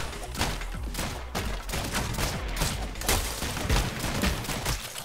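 Rapid gunshots from the video game ROUNDS, a steady stream of loud popping shots firing in quick succession throughout.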